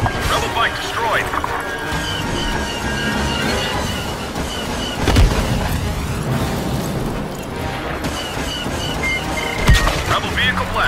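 Rebel speeder bikes being blasted in Star Wars: Battlefront, with heavy booms and crashing explosions over a constant roaring engine rush, while a voice speaks during the action.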